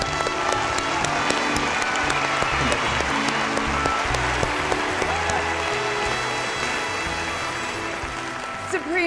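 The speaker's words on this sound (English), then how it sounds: "let's give our 6 charities and special guest presenters a round of applause" An audience claps for charities and guest presenters at a charity event, a dense, sustained round of applause that fills the room and fades slightly toward the end.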